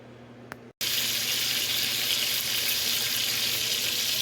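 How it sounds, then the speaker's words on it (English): Steady, loud sizzling of a pound of bacon frying in a large pot, a dense crackling hiss that starts abruptly after a brief quiet moment and continues without pause. "Next, fry that pound of bacon."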